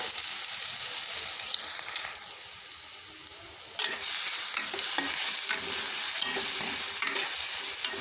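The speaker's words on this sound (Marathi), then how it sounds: "मस्तपैकी तेलामध्ये हिरव्या मिरच्याचा ठेसा भाजून घेऊत" Green chilli paste with cumin frying in hot oil, a steady close sizzle that swells louder partway through as more goes into the pan, with stirring scrapes throughout and no voices.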